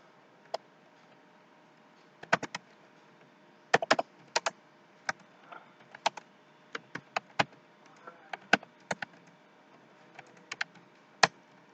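Typing on a computer keyboard while writing lines of HTML code, heard as sparse, irregular clicky keystrokes in short bursts with pauses between, close and fairly quiet with no talking.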